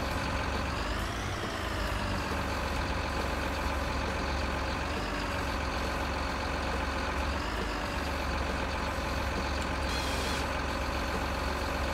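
A truck engine drones steadily while driving through snow in a German farming game set in Thüringen, a continuous low rumble with faint shifting whine and no talk over it.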